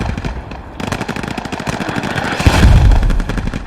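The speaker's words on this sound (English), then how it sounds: "More mortars are inbound." Mortar fire in a video game battle, with a steady crackle of distant gunfire building into a louder, heavier burst of blasts near the end, no voices over it.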